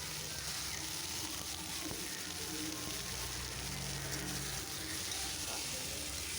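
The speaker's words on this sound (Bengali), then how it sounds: "সরিষার তেল আর পেঁয়াজ কুচি দিয়ে দিচ্ছি। হালকা নাড়িয়ে কাঁচা লঙ্কা চেরা দিয়ে দিচ্ছি, টমেটো কুচি, পেঁয়াজ করে দিয়ে দিচ্ছি।" Chopped onion, slit green chili and chopped tomato frying in mustard oil, a steady, crackling sizzle that runs evenly throughout, close and moderately loud, with no clear talking.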